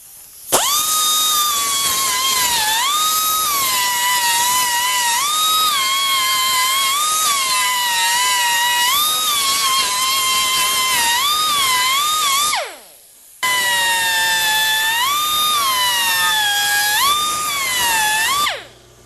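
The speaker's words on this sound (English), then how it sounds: "we do want to clean up all the cuts and bevel all these oval holes" A power tool bevels oval holes cut in a metal sculpture piece, making a loud, high, sustained whine that rises and dips as it bites into the edges, pausing briefly before starting again.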